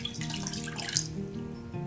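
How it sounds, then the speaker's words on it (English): Water pours steadily from a tap into a saucepan for making oatmeal, a quiet continuous splashing stream with a faint rising tone as the pan fills. "Pouring in the water into the saucepan and letting it boil."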